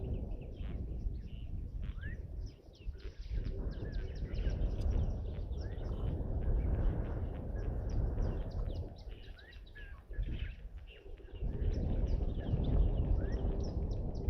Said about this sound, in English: Hear a black-crowned chagra calling in the background.